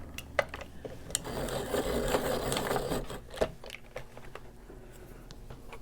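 A coloring pencil turned in a pencil sharpener gives a steady grinding whir that builds and fades over a few seconds, with scattered small clicks and taps around it.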